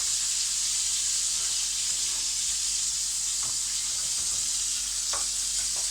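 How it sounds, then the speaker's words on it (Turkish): Tomatoes sautéing in the same hot oil used to fry peppers give a steady, even sizzle and hiss throughout, with a few faint stirring clicks and scrapes, close by and with no talking. "Şimdi domateslerimi hafif hemen soteleyeceğim. Hafif. Aynı yağda."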